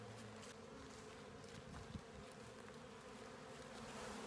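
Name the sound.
buzzing of a swarming honey bee colony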